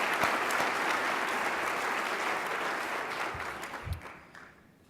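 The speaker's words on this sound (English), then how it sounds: "let's give another round of applause to the servers and the staff here at the" A gala audience in a hotel ballroom gives a sustained round of applause, dense and even, that thins out and fades near the end.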